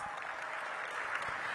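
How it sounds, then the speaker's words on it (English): Luncheon guests give a sustained round of applause, an even, dense patter of many hands from across a room, steady and fairly soft, with no talk on top. "Please give them a big round of applause."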